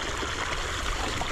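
Continuous close gush of irrigation water flowing into an eggplant field, a dense even rush lasting a moment.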